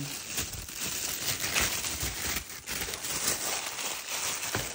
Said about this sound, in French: Donc dans un carton, donc en deux morceaux forcément. Donc ici, je vais vous déballer.